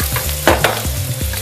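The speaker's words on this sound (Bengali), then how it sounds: "এই সবজিগুলো ভাজা হতে একটু সময় লাগবে, তাই আগে আমি এই সবজিগুলো ভাজা করে নিয়ে" Beans and other vegetables stirred and frying in a pan: a steady sizzle runs throughout, broken by several sharp scrapes and knocks of the utensil against the pan, close and fairly loud.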